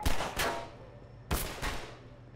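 Gunfire from a firefight behind cover in the Half-Life 2 VR mod: two loud, sharp bursts of shots about a second apart, each trailing off into a decaying echo.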